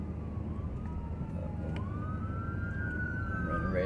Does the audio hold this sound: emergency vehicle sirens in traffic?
yes